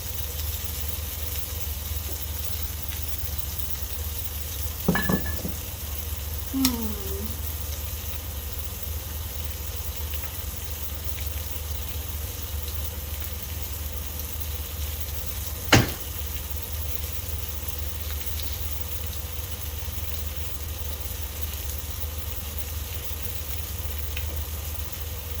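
Vegetables sizzle in a hot cast iron sizzle skillet beside salmon and asparagus, a steady even frying hiss with a couple of sharp clinks from a utensil against the pan, close and without talk.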